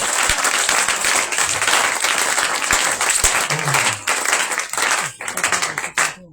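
A church congregation at a Pessah service applauds to acclaim Jesus: loud, dense, sustained clapping from many hands, with crowd voices mixed in, thinning briefly near the end.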